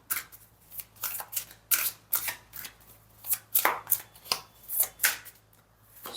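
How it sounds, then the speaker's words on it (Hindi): Tarot cards being shuffled by hand, a series of crisp riffling and slapping bursts in an uneven rhythm, close and fairly loud with no talk over them. "सो मैं दोबारा से शफल करती हूँ and then we will see."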